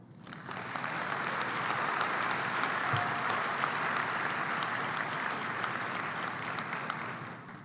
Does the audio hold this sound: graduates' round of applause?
yes